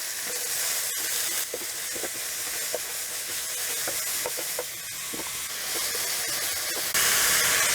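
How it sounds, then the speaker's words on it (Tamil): Chopped cabbage sautés in a hot pan for a mutton keema and cabbage curry, giving a steady, close hiss and sizzle with small crackling pops throughout and no talking. "இப்போ முட்டைக்கோஸும் நல்லா வதங்கட்டும்."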